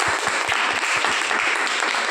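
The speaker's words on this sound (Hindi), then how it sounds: "जोरदार ताली" An audience at a DXN talk claps together, a brief burst of fairly even, rhythmic clapping in quick succession.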